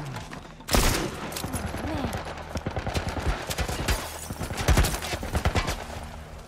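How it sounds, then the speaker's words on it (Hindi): Military turret gunfire in The Last of Us, a sharp blast followed by rapid bursts of shots and dense, crackling volleys at close range, with voices speaking faintly underneath. "Some kind of military turret."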